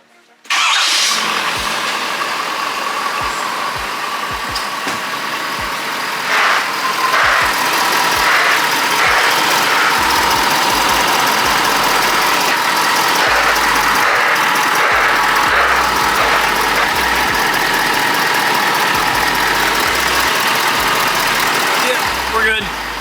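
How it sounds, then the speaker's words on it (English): A lifted pickup truck on new rims, tires and Fox suspension cranks and fires up, then settles into a steady, loud idle close by for the rest of the stretch. "let me fire it up and turn the wheel, make sure it clears all that stuff."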